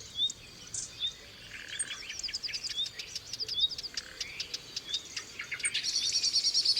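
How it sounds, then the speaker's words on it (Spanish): A frightened blackbird flees through summer woodland, giving a series of sharp, rapid alarm chirps that grow into a loud rattling chatter at the end, over other birdsong and a steady insect buzz. "Y un mirlo que se escapa asustado"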